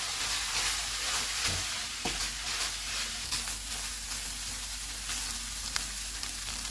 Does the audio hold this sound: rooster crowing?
no